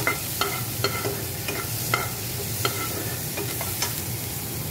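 Taro leaves that were boiled first are frying in a little oil with a steady crackling sizzle. A utensil stirs them in repeated scraping strokes close by, and no one speaks.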